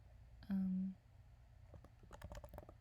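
Light clicking of a computer keyboard as text is typed, a brief flurry of soft, quick key taps near the end following a short hum, faint and close.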